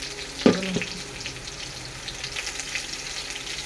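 Potatoes fry in a pan with a steady, close sizzling hiss that carries through the whole stretch, broken by a short clatter near the start.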